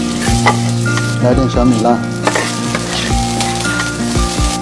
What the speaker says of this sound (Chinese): 姜蒜爆个锅